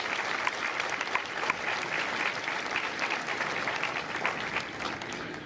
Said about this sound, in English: So please, join me in a round of applause for our Marine Corps recruiters